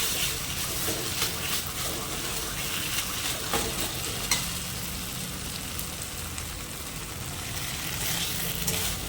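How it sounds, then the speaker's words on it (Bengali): Poppy seed paste frying and being stirred in a pan, a dense continuous sizzle with crackling and repeated scraping strokes, close and fairly loud, with no talking. "আপনারা এইভাবে নেড়েচেড়ে একেবারে পোস্তটা শুকনো শুকনো করে ভাজা ভাজা করে নেবেন।"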